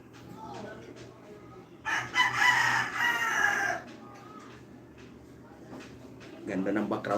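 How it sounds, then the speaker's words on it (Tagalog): Roosters crow and chickens cluck in the background of an outdoor morning livestream, one long crow rising clearly midway while someone talks nearby, with more clucking near the end. "Ganda ng background natin ha. May mga manok pa."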